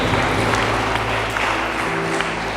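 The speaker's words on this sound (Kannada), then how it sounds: "ನೀವೀಗ ಚಪ್ಪಾಳೆ ತಟ್ಟಿದ್ದು ಯಾರಿಗೆ?" An audience at a faith talk claps together in a steady, dense wash of applause with some crowd murmur, loud and continuous throughout.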